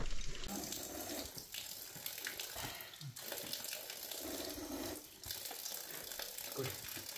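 Water runs steadily from a small catchment on a hiking trail in the North Sahyadri hills, giving a continuous, fairly close splashing rush that fills the whole stretch with no pauses.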